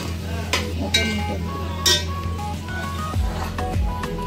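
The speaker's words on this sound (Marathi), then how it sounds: "आता मटण टाकाल ना" Mutton goes into a sizzling pot of masala for biryani, with a steady fry hiss, sharp metallic clinks of a spoon against the pot, stirring, and a few soft thuds near the end.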